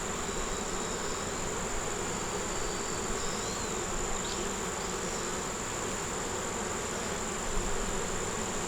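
Honey bees buzz steadily and densely around an open hive during inspection of brood and honey frames, a close, continuous hum with no voices.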